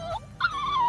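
A Baby Born toy dog makes a whiny, electronic whimpering sound: a short rising whine followed by a longer, steady, wavering tone.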